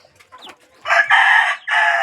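Backyard chickens cluck softly and briefly, then a rooster crows loudly and close by in two long bursts.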